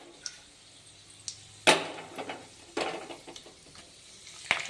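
Curry leaves frying in a pan of hot oil give a soft sizzling hiss, with a few sharp crackles and spits as the leaves hit the oil and are stirred.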